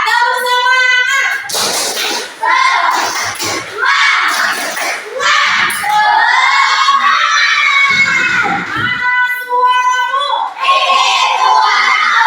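A class of young children chants and shouts a rhythmic clapping cheer together in a classroom lesson, loud and close, with excited voices filling the whole stretch.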